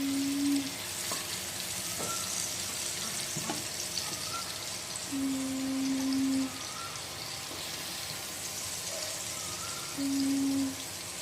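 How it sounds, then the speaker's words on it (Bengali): Shrimp fry in hot oil in a pan for a chingri bhuna, giving a continuous even sizzle with a low hum swelling in briefly every few seconds. "আমাদের কিন্তু চিংড়ি মাছগুলো ভাজা হয়ে গেছে"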